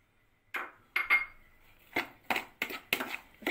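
Sandwich filling of salt, dried herbs and pasta sauce being mixed with a spoon in a bowl, a series of sharp clinks and scrapes, about eight distinct knocks close by, with near silence between.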